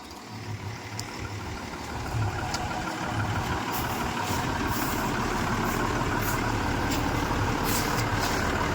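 A truck engine idles steadily with a low rumble, growing louder after a couple of seconds and holding constant, with no talking.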